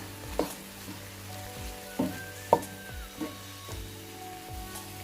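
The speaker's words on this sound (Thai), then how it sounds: "ก็ช่วงนี้ก็เราจะผัดให้เข้ากันนิดนึงเนาะ" Vegetables and mushrooms stir-fried in a pan with a little light soy sauce and seasoning powder hiss and sizzle steadily, with a few spatula knocks and scrapes against the pan.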